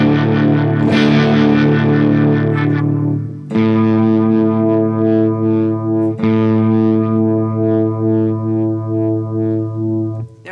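DOD Phasor phaser pedal run into a DOD Gunslinger distortion, a loud sustained overdriven electric guitar chord sweeping with phase modulation, restruck about three and six seconds in, no talking.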